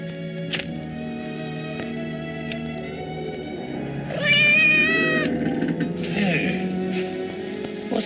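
A cat meows indoors at night, a drawn-out cry midway followed by a fainter second call, over a steady low hum with occasional soft knocks.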